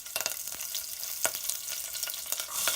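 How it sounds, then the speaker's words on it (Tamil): Mustard seeds, cumin and green chillies sizzle and crackle in hot oil, a steady frying hiss broken by sharp pops and stirring scrapes, close and continuous with no voices. "ஆயில் ஹீட் ஆனதும் கடுகு, சீரகம் ஆட் பண்ணிக்கோங்க."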